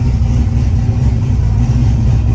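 A turbocharged Mustang engine with a 102mm turbo and a big exhaust idles steadily with a deep, rumbling exhaust note, loud and close, with no change in pace.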